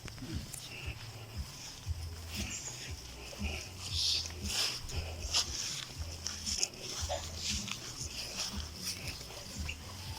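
A dog whimpers and gives short yelps in a repeated pattern, fairly close, over a low rumble, with a person talking intermittently.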